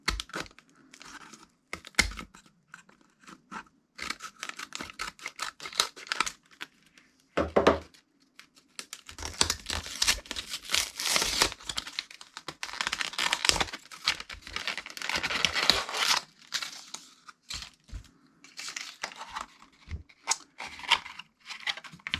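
Unboxing a Fenix E12 V2.0 flashlight: close crinkling and tearing of packaging, plastic rustles and small clicks in irregular bursts, fairly quiet, with no talk.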